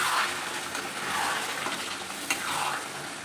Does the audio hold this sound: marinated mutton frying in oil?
yes